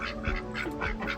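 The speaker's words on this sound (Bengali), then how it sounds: "দেখুন কত মুরগি আর হাঁস" Several ducks quack repeatedly in an overlapping chorus on a farm behind a house in America, fairly close and with no talk over them.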